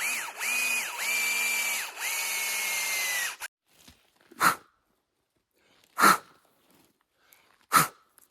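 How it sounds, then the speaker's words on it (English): A power drill whirs in three short bursts into a tree trunk with brief pauses between, then several sharp knocks or taps follow, spaced apart in quiet. "you're supposed to go about 2 inches with these, and then drill at an upward angle"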